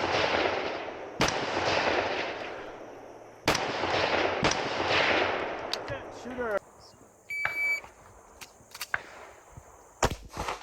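Gunshots at a multigun shooting stage, fired with a rifle wearing a top-mounted red dot optic: sharp single reports spaced irregularly and close, plus later a few quicker pistol shots, with a beeping electronic tone partway through.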